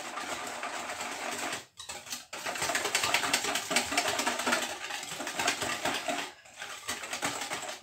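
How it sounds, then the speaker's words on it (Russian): A kefir and gelatin chocolate dessert mixture whisked quickly by hand in a bowl, a rapid continuous rattling whir that pauses briefly a few times before resuming, close and fairly quiet. "Ну, я вот так по-быстренькому венчиком."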